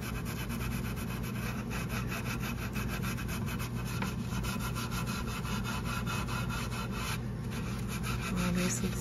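Sealer is buffed by hand into a repaired wooden chair leg, giving a continuous close rubbing and scrubbing sound with fast repeated strokes and no speech.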